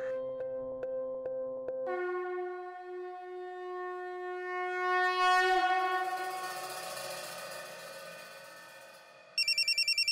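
A phone rings with a loud electronic melody of sustained, stacked tones, then switches to a rapid, bright repeating beep at the very end.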